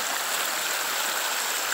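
Rainwater runs down a storm-washed road near an old hairpin turn, a steady, close rushing wash of flowing water without pause or voices.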